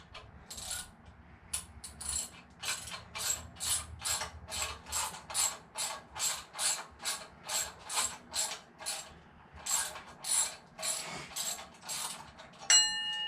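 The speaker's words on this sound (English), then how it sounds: "get them torqued down with my wrench" A ratchet wrench clicks steadily in a long even series of strokes as water pump bolts are torqued down on a 7.0 L LSX engine build, close and fairly quiet, with no speech.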